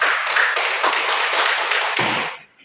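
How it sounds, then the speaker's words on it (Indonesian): An audience applauds a presenter at a school teachers' meeting: dense, close clapping from many hands holds steady, then tapers off quickly near the end, with no speech. "mari kita berikan tepuk tangan yang meriah untuk Bapak Kosmas"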